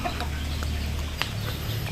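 Turkeys calling on a backyard poultry farm, with faint clucking and gobbling sounds over a steady low background hum, moderately distant and intermittent.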